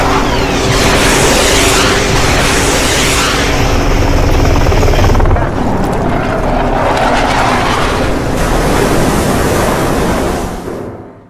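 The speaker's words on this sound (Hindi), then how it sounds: "ये वही हेलीकॉप्टर आप देख रहे हैं। हेलीकॉप्टर वहां पहुंचा ईरान के जहाज के ऊपर।" A military helicopter flying over a ship at sea, a loud continuous rotor and engine roar with steady chopping throughout, fading out at the very end.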